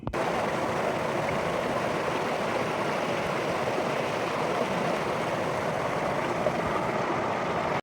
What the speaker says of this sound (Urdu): پانی بھی جو ہے بڑی زبردست قسم کی آوازیں نکالتا ہوا ہمیں پانی کا شور جو ہے وہ ہمیں اپنی طرف کھینچ رہا تھا